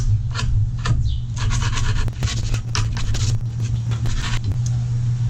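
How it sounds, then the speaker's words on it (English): A scooter deck's grip tape is ground down along the inside edges, giving a steady, close rasping and rubbing that runs for several seconds over a low, constant hum. "that's going to make it a little bit easier to be able to grind down the insides"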